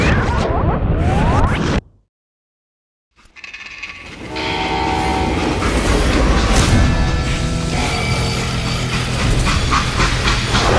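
A train in the western video game Call of Juarez Gunslinger rumbles and clatters loudly, and a sustained train horn blares after a short cut to silence, with heavy rolling noise throughout.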